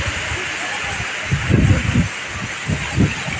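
Steady broadband wind noise buffets the microphone throughout, with a few louder low rumbling gusts.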